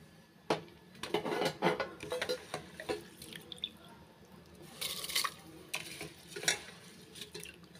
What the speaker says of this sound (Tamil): இப்போ அரிசியை சேர்த்துக்கலாம்.